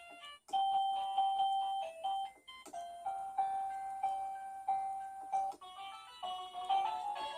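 MECO wireless doorbell kit with plug-in receiver playing a holiday-themed melody, clear bright electronic chime notes in a steady tune, loud and close with no voices.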